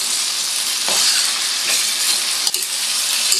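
Shrimp paste frying in a pan while being stirred, a close, steady sizzle with a few scraping stir strokes, no talking.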